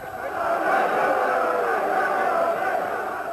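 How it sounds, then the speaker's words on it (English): A huge crowd of Derry football fans at a stadium in Athlone produces a broad, steady roar of massed voices, swelling and holding at a distance for a few seconds. "in Athlone, a huge Derry crowd were in attendance"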